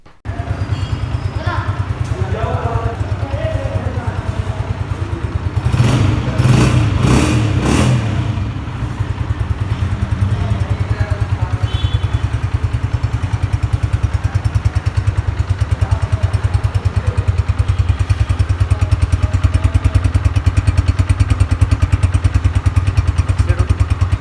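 A 2022 Honda CG 125 motorcycle engine idles steadily and close by for a long stretch, with a brief burst of revving early on and a low continuous rumble throughout.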